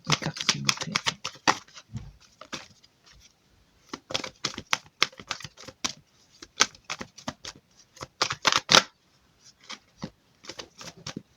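Tarot cards shuffled and handled close up during a full-moon card reading, giving crisp papery riffles, flicks and taps in uneven bursts separated by short pauses.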